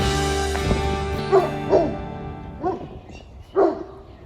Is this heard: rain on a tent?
no